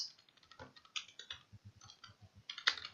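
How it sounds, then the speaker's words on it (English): Typing on a computer keyboard: quiet, close key clicks in a loose, uneven run, some softer thuds among them and a sharper click near the end, with no talking. "Let me type the next sentence."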